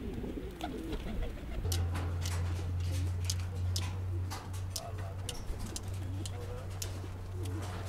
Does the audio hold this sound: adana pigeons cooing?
yes